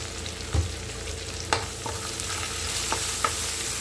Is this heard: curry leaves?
yes